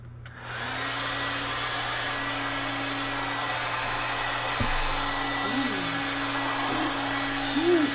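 A hair dryer blowing over a sealed mixed media art journal page, a steady close whirring hum that starts after a brief quiet moment and runs evenly throughout, with slight pitch wavers near the end.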